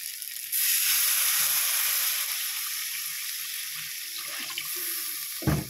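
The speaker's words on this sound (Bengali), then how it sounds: "এবারে জল ঢেলে দিই।" Water poured into a pot of spiced curry, a steady loud rushing and hissing pour lasting several seconds before tapering off, with a brief clatter at the end.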